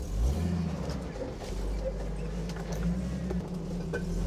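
A truck with a 4.5-inch BDS long arm suspension lift crawling up and over a rock off-road, a steady low engine rumble that rises under throttle, close and continuous.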